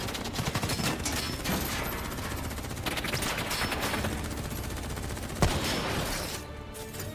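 Sustained heavy gunfire in the Call of Duty: Black Ops 3 story campaign, with dense automatic bursts and volleys filling the scene alongside a sharper single report near the end.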